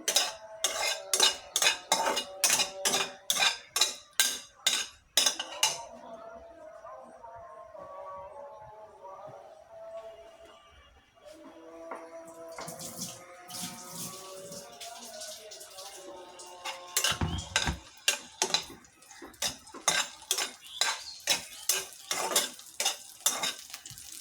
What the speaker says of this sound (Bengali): এখন আমি আলুটা ভেজে নেব।